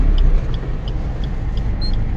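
A car pulling away in first gear during a driving lesson, a steady low engine and road rumble heard from inside the cabin, with faint regular ticking over the top.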